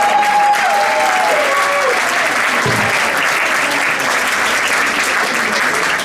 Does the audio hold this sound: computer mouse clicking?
no